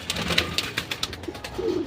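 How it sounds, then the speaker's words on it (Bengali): A pair of army pigeons, male and female, cooing softly nearby, a series of low repeated coos with light fluttering and rustling between them. "অরিজিনাল আর্মি কবুতর নিয়ে আসলাম নর এবং মাদি উভয় কবুতরই"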